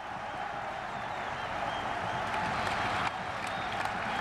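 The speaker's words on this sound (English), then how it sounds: "Good round of applause from the spectators and his teammates." Steady applause from a large crowd at a cricket test match, a broad wash of clapping that holds evenly throughout without pause.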